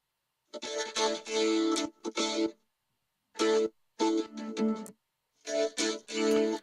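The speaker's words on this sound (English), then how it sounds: "So here we go. This is the vocoder," A Logic Evoke 20 polysynth vocoder playing alone: several short, robotic, voice-shaped synth phrases with buzzy harmonics, separated by clean silences.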